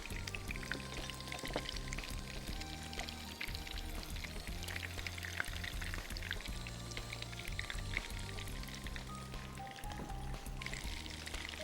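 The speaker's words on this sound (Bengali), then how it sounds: "হালকা আমি তেলের মধ্যে একটু ভেজে নেব আগে।" Thankuni leaf batter fries in hot oil with a steady, dense sizzle and crackle throughout, close and even, with no one speaking.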